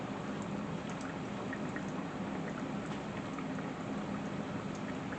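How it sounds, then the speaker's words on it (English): Savory fried pies sizzle in hot oil, a dense, continuous crackle with scattered pops and bubbling, close up and steady, with no talking. "we can just let them fry a little bit"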